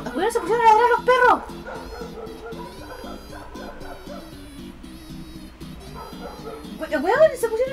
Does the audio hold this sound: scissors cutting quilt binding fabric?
no